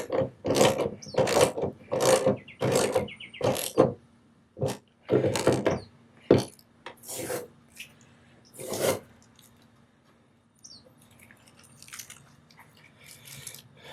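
A ratchet tightens the bolts on a car's hood damper with quick bursts of sharp, close clicking, the strokes coming in irregular groups before slowing to a few faint clicks.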